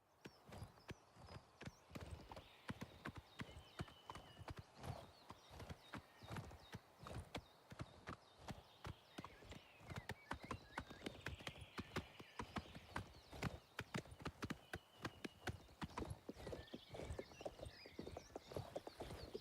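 A herd of wild horses in a video game clop along in a steady, busy hoof rhythm, with an occasional neigh breaking through, moderately close and without talk.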